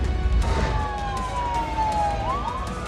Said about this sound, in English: Sirens screaming down the highway, escorting an ambulance to Greenville Memorial Hospital